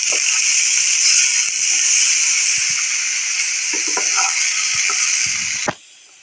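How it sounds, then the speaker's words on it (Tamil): Boiled chayote being stirred into sautéed onion and garlic in a pan, a loud, dense, continuous sizzle-hiss with a few soft scrapes beneath it that cuts off abruptly near the end. "அடுத்து வந்து வேக வைத்த காயை போட்டு நல்லா கலந்து விட்டுக்கணும்"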